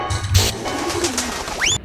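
Pigeons cooing in the video game Jazzpunk: low, soft coos under a game soundscape, followed by a rising electronic chirp near the end.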